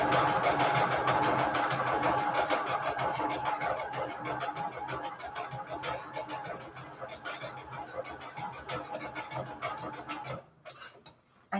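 A sewing machine stitches paper pockets for a Christmas book-page junk journal, a steady close mechanical whir running loud and continuous for about ten seconds before stopping abruptly near the end.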